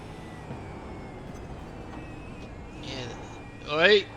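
A Supercars race car in the iRacing sim at Miami, its engine droning steadily under commentary before rising into a louder, sweeping rev near the end.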